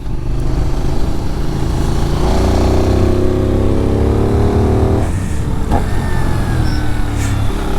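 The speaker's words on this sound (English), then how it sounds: "This is quite a low revving engine though." A Benelli 752S motorcycle engine runs loud and close, its low-revving drone rising and settling through several throttle changes, with wind rush around it.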